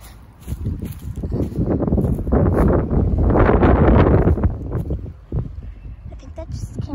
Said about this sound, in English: Yeah, it's really windy today.